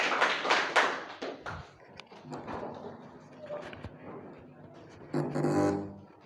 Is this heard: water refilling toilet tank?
no